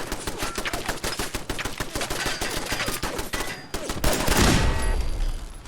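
Rapid bursts of gunfire pour in during a Fallout vault fight, dense and continuous for several seconds, then a heavier, louder blast of impacts near the end.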